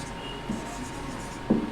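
Marker or chalk scratches on a classroom board while a chemical formula is written, giving brief soft strokes over quiet room noise, with no voice.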